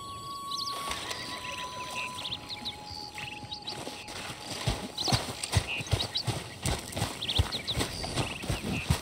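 Horse hooves clip-clop in a steady walking rhythm in the video game Red Dead Redemption 2, growing more distinct midway, with faint chirpy ambient tones and a brief whinny-like sound early on.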